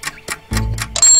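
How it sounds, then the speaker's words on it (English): An alarm clock ticks in a cartoon scene, giving four evenly spaced, crisp ticks that end in a brighter, sustained ringing tone. "It's my alarm clock, 1, 2, 3. That's what was ticking."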